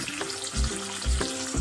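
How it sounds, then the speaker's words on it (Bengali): Fish pieces frying in hot oil in a home kitchen, a continuous close sizzle with soft bubbling and a few low thuds. "তো আমি এখন মাছগুলো ভাজি"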